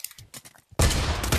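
Sustained automatic gunfire in the video game Pavlov bursts in loudly and continuously after a short stretch of quieter sounds.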